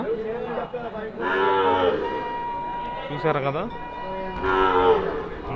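Cows mooing at the Krosuru cattle market, with several drawn-out moos close by under and between speech, set against a busy background of livestock and crowd noise.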